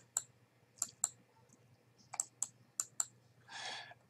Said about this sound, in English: To remove series 2, we will click inside of the chart, right click